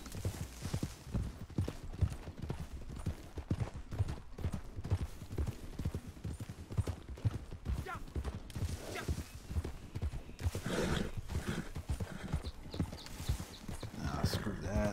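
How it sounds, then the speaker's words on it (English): Rapid, rhythmic clip-clop of a horse's galloping hooves in Red Dead Redemption 2 runs through the whole clip, steady and loud, with voices talking over it. "Why is my horse all running all weird?"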